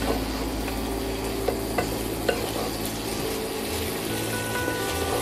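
Garlic, cumin and ginger paste fries with prawns in a pan, making a continuous crackling sizzle with scattered sharp spatula taps and stirring scrapes, close up and with no one talking.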